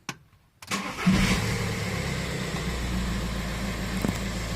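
A Volkswagen 1.9 TDI BLS diesel engine, freshly fitted with a new timing belt kit, cranks briefly and then catches, settling into a steady, loud, rattly idle that runs on to the end.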